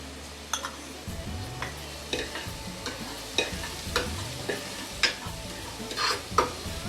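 Ghee tempering with chopped ginger, garlic and green chillies crackles softly in a pan for dal fry, with a spoon stirring now and then, producing scraping knocks and small bursts of sizzle over a low continuous fry.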